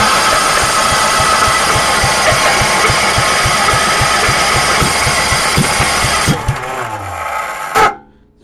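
Unmuffled engine cold-starting on an open pipe, running as a loud, uneven idle with a steady pulsing beat for about six seconds before surging and cutting out abruptly.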